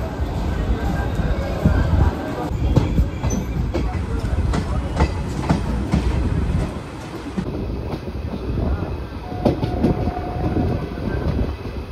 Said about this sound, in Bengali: 9:56 সময় আমার ট্রেন ছেড়ে দিল বেলডাঙ্গা রেলওয়ে স্টেশন থেকে